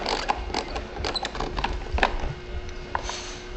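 Small 10 mm bolts are worked loose from the front trim of a Yamaha boat, giving close, irregular clicks and light ratcheting mechanical rattles over a few seconds.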